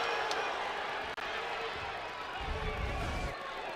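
Crowd cheering in a basketball arena during a women's college game, Gonzaga against Oregon State, a sustained broad roar with sneaker squeaks and a swell near the end, under a commentator's talk.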